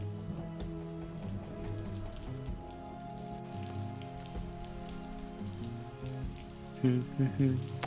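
Steady rain from the video game The Maker's Eden patters continuously on surfaces, a soft even wash of droplets with a few brief thumps near the end.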